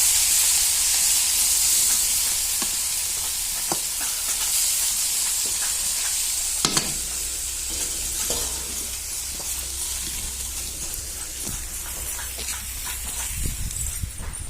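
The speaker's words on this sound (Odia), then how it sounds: "ବିନ୍ସ ଶିମ୍ବ ଆଳୁ ଭଜା ବସେଇଛି।" Beans, flat beans and potatoes frying in a pan give a continuous close sizzle and hiss, with occasional stirring clatter and a few sharp knocks along the way.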